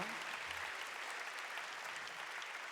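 A crowd at a Japanese–Korean youth exchange gathering keeps up steady, dense clapping, a continuous wash of many hands heard alone without talk, moderately faint and even throughout.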